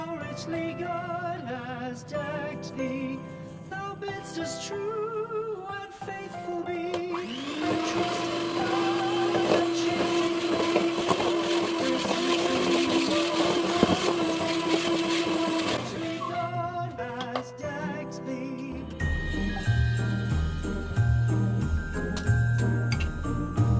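An electric beater mixes plum cake batter as eggs are added, giving a steady whirring hum that runs for about ten seconds between quieter stretches of clinking and scraping, close by, with no talking.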